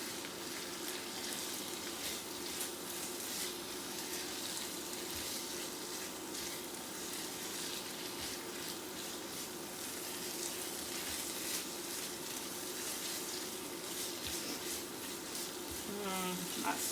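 Curry paste and spices fry with onions in a pan for a cauliflower and sweet potato curry, making a continuous close sizzle with soft scraping from stirring.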